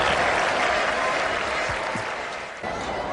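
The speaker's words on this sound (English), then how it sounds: "Huge applause" Big cricket crowd at a World Cup semifinal between Pakistan and New Zealand applauding a new batsman walking in, loud sustained clapping that eases slightly near the end, with a voice faintly underneath.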